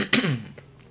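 A single short cough, fairly close and moderately loud, followed by a brief faint throat sound and quiet.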